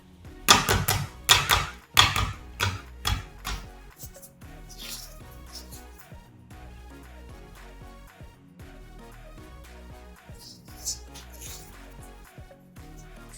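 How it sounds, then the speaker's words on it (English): A boiled egg's shell is cracked and broken in a quick cluster of sharp, close taps and crackles, then quieter intermittent clicks as the peeling goes on, with soft music underneath. "so let's just break the shell."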